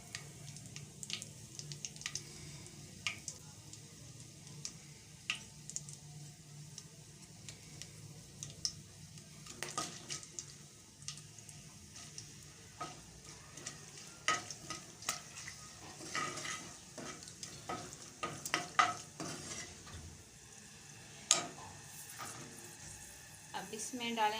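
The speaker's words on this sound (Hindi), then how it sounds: "इनको एक आधे मिनट के लिए फ्राई करेंगे तकरीबन।" Whole black pepper, cloves, bay leaf, cinnamon, green and black cardamom fry in hot oil in a pot, a soft steady sizzle with scattered small crackles and pops and occasional stirring clinks throughout.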